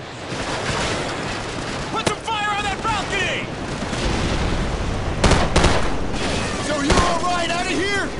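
Scattered gunfire bursts crack through a dense, roaring wash of battle noise in Call of Duty 4: Modern Warfare, with radio-style voices talking over the din.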